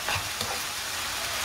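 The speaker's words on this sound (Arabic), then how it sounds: "نخلط لو تو مع بعضه" A spoon stirs and mixes a spiced dish in a hot pan, making scraping strokes over a continuous close sizzle, with a sharper scrape near the end.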